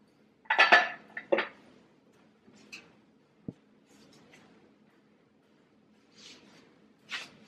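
Light clinks and scrapes from handling a small piece of a butter dish on a kitchen surface, a few quick clusters of taps near and fairly quiet, separated by near silence.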